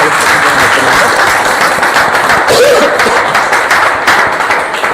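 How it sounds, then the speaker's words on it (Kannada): A student audience at a college farewell ceremony breaks into loud, sustained applause, a thick, even roar of many hands clapping close by for the full length, with a faint chuckle in the crowd. "ಅವ್ರಿಗೆ ಜೋರಾಗಿ ಚಪ್ಪಾಳೆ ಮೂಲಕ ಅವರಿಗೆ ಅಭಿನಂದನೆಗಳು"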